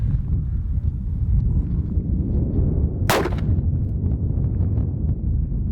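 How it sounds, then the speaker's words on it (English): A single loud .357 revolver shot from a Chiapa Rhino cracks out once mid-clip, standing out against steady outdoor wind rumble with no talking. "we've got 357 out of this Chiapa Rhino, which I have never shot one before"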